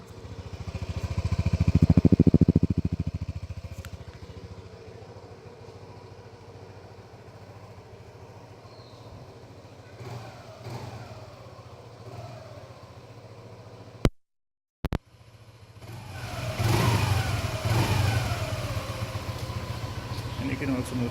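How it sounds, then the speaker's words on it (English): TVS Jupiter ZX scooter engine and exhaust, a swell of revving followed by a steady idle, a brief cut, then more revving with a throaty hum, with someone talking over parts of it. "give you a chance to listen to the exhaust note, which is quite throaty for a scooter of this class"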